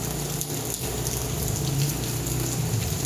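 Heavy rain pours down steadily outdoors on a rainy day, a dense, loud, continuous hiss of drops striking surfaces with no voices over it.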